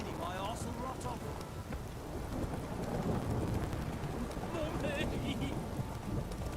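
Steady rain pours in the Witcher 3 game world, a dense continuous patter with low rumbling underneath, loud throughout as a voice and brief chirping sounds come and go over it.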